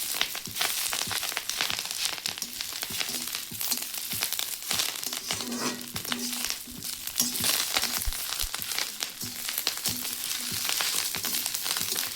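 Spices roasting in a hot pan for a masala preparation, a steady loud sizzle and crackle with scraping stir strokes running throughout, no voices.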